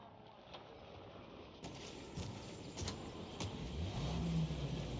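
A period car in Mafia Definitive Edition idles and then pulls away, its engine note rising toward the end beneath ambient city sounds and cooing pigeons, fairly quiet overall.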